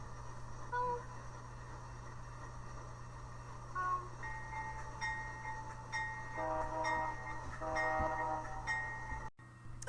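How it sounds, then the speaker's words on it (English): A locomotive in a train game starts up and runs along the track, a low steady rumble with tonal whistles and clanks over it, and a voice talks briefly over the sound. "Let's get the train started."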